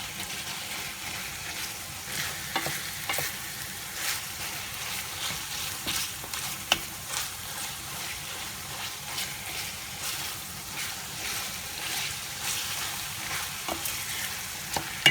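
Minced meat is mashed and fried in a pan, with a continuous close sizzle broken by repeated sharp taps and scrapes of a utensil pressing the meat, and no voices.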